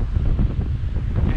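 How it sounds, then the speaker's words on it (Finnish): Strong wind buffeting a microphone outdoors in Finnish hunting country, a loud, low, continuous roar with gusty surges and no other sounds. "Ankaraa tuuli."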